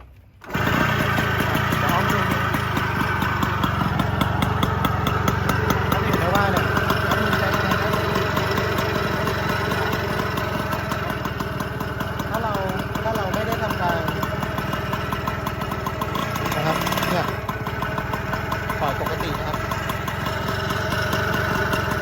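A small Yamaha YL2 motorcycle engine idles with a steady, close putter, running continuously with a brief dip in the middle, and someone talks over it.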